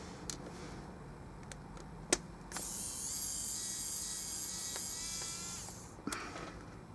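A Wowstick micro electric screwdriver runs with a steady high-pitched whine for about three and a half seconds, close and fairly loud, with a few sharp clicks before and after it.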